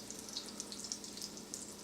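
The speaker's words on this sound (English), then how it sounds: "Keeping an eye on our cutlets while they're pan frying." Faint, steady sizzling and crackling of venison cutlets frying in a pan, with scattered small pops and no talking.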